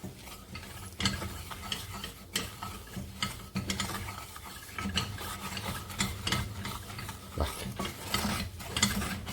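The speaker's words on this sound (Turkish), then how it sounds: "Şimdi bu, burada unu kavuracağım." Flour roasting in butter in a pan is stirred with rapid, rhythmic scraping strokes against the pan bottom, producing a continuous close grinding clatter with a faint sizzle beneath.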